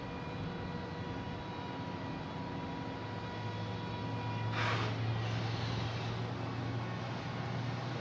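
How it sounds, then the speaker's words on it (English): A JetBlue Airbus A220 jet arriving from Fort Myers on landing at Boston Logan, heard as a steady, moderate engine roar with a brief whooshing swell as it passes, over a low constant drone. "another JetBlue coming in from Fort Myers in a 220, flight 2266."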